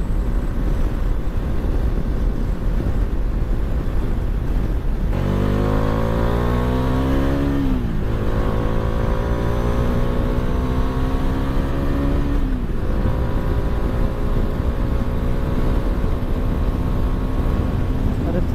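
Car driving along a road lined with green scenery, its engine droning steadily and loud throughout, with rising and falling harmonic sweeps as it accelerates and shifts gears.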